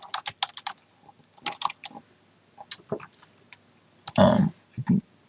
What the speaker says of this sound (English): if I double click in here